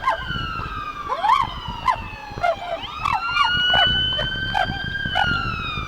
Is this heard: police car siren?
yes